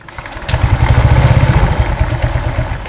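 Honda Vario 125 scooter engine running close by with a steady rapid clatter, a rattling pulse that rises as the throttle opens and then holds under load.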